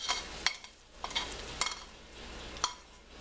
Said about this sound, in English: I'm going to pour them into a chinois to get rid of the excess oil.